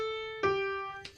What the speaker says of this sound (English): Those are the first 2 notes for Mary Had a Little Lamb.